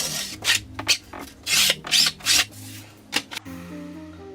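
A trowel or float rasps and scrapes in short, uneven strokes, smoothing waterproofing membrane over thinset on a shower floor, close and loud, followed by quieter rubbing.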